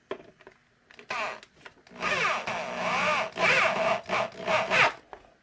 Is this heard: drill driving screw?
yes